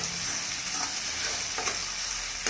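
Finely chopped tomatoes roast with garlic in a pan, sending up a soft continuous sizzle and crackle, broken by an occasional light scrape of stirring and a brief clink at the end.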